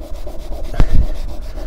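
A cloth rubs rust off a scratched metal surface, making a steady, close abrasive rubbing with a brief louder scrape midway.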